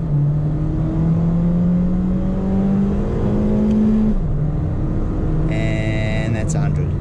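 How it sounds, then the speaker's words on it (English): A 2008 Honda Jazz Sport with a manual-mode gearbox pulls hard at full throttle, its engine note climbing steadily, then dropping at a gear change before rising again, loud and close from inside the cabin. "if you put it in manual mode and you go full throttle, it's pretty good"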